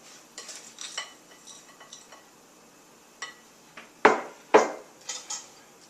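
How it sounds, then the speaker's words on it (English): Crumble topping is spooned onto an apricot pie, with a handful of soft scrapes and clinks of a spoon against the dish, two louder taps near the end, all close and with no talking. "spoon it onto the top, cover the whole area"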